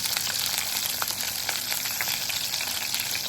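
Onion, garlic and green chili fry in an Italian pan, making a steady, dense sizzle with faint crackles throughout and no speech.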